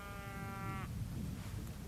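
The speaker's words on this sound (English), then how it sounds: "The cows are back over that way." A single cow moos on open moorland, a steady drawn-out low call that breaks off partway through, heard at moderate distance over outdoor wind and background noise.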